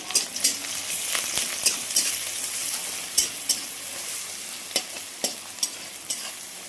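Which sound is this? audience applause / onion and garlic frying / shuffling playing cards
onion and garlic frying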